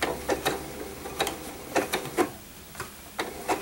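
Janome sewing machine running on slow while stitching a blind hem on a sleeve-like tube, giving soft, irregular mechanical clicks and short whirring bursts close by, with no talking.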